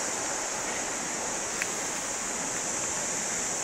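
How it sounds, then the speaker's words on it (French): Soft continuous trickle and rush of a small stream running just below a hidden church, a steady gentle hiss at moderate distance with one brief tap and no speech. "Je pense qu'on doit entendre le bruit de l'eau qui coule, petit ruisseau quoi."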